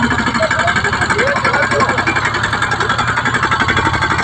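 A tractor engine runs close by at a steady idle, its rhythmic chugging pulse loud and continuous, with someone talking over it.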